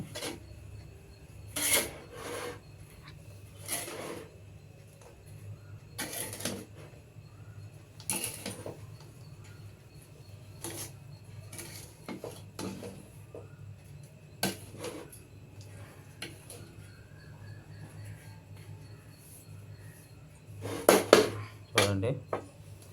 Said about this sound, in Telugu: ఆ వేడి మీద కలుపుతున్నాను